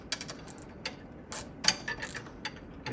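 A wrench tightens a bolt on the gas strut of a heat press, short bursts of ratcheting clicks repeated in quick strokes, close and fairly quiet with no talking.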